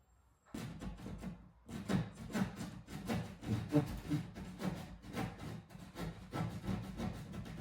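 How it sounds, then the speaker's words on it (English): A hand saw rasps back and forth through wood in a steady rhythm of strokes, close and moderately loud, continuing throughout. "Get your saw out."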